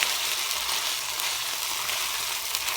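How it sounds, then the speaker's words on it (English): Spaghetti sauce simmering in a pan on lowered heat gives off a steady, even sizzling hiss that continues without breaks and with no one speaking. "And let this simmer in here."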